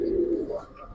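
A big blue-feathered pigeon of a large breed gives a short, close, soft low coo, a single throaty call lasting about a second.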